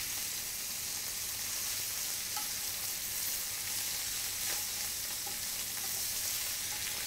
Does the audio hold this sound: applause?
no